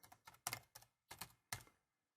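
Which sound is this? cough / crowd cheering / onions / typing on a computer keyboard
typing on a computer keyboard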